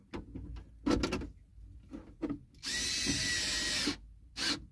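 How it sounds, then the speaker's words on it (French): A power drill drives screws into a Volkswagen Touran storage box under repair: several short, close whirring bursts, then one longer, steady run of about a second, and a final quick burst, with no talking. "Donc allez, on va continuer de visser."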